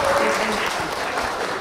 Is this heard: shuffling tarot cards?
no